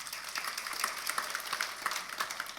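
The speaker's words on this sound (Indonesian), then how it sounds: "Anda boleh tepuk tangan yang di sini" A church congregation claps during a sermon, a short burst of scattered hands with a few sharper individual claps standing out, moderately loud and without talk on top.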